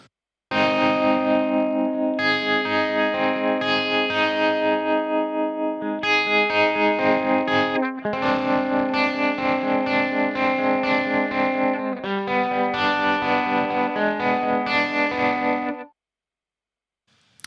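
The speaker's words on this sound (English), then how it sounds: "And I've put a tape slap echo on this." Electric guitar passage run through a wide stereo tape slap echo, sustained chords and notes with short repeating slapback, playing continuously at steady loudness before stopping abruptly near the end.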